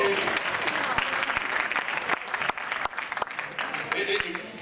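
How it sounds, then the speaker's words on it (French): A church camp congregation applauds the pastor, a loud, lively burst of many hands clapping with scattered sharp claps and crowd voices mixed in. "Et vous m'applaudissez"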